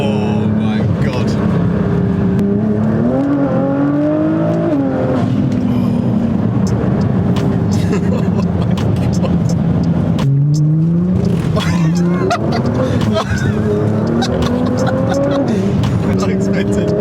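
A wide-body Nissan GT-R R35 revs hard and accelerates with a very loud, rising and falling engine roar and tire squeal, close by throughout, with people talking over it.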